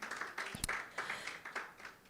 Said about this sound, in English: Please applaud yourselves once again.